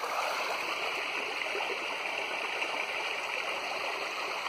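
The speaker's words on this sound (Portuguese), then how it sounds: "A queda d'água aí, ó." Water pours over a reservoir spillway overflowing after a heavy storm in dry scrubland, a steady, close, full roar of falling water that holds level throughout with no voices.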